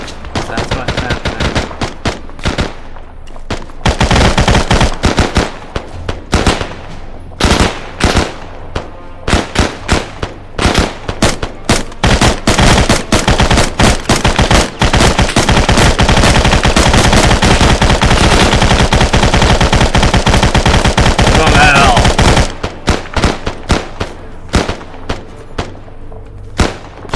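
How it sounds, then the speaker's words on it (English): Friendly AI soldiers firing in an Arma night operation, with scattered close gunshots building into long, loud sustained bursts of automatic fire before tapering back to sporadic shots. "Are the friendly AI shooting at me? That's what's happening."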